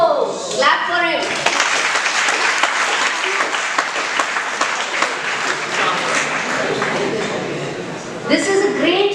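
Dense, loud applause from the audience at a communication-skills workshop fills most of the stretch, rising after a short spoken exclamation and fading as a voice resumes at the end.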